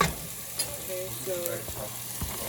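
Onions fry in a pan with a soft, continuous sizzle and hiss, close by and fairly quiet, with faint occasional stirring.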